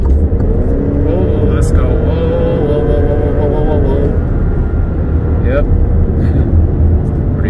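A 2019 Alfa Romeo Stelvio accelerates on the 405 freeway through a construction zone; a steady in-cabin engine drone rises in pitch, heard under a voice.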